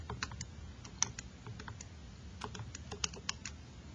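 Keys on a graphing calculator are pressed in quick, irregular runs of soft plastic clicks, close and faint, while data points are entered.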